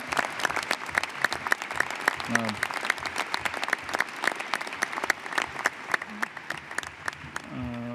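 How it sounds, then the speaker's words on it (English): Audience applause for the presenting panels at a National Space Council meeting hosted by the Vice President, a steady round of clapping lasting throughout with a few brief voices over it. "Could we give another round of applause to the distinguished panels that presented today?"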